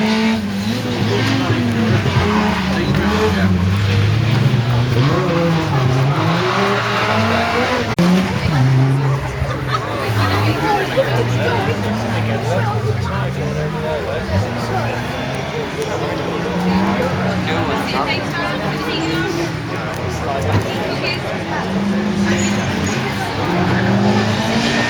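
Ford Escort Mk1 1600 stage rally car at a rally in Brean pulling away from the start line, a loud continuous engine roar with revving pitch changes and hints of tyre noise, alongside a steady crowd and announcer-like background.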